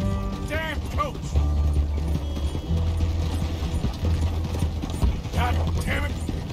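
Horse hooves galloping in the Western video game Red Dead Redemption 2, a steady rhythmic clip-clop beneath a rumbling game soundscape and the jangle of tack.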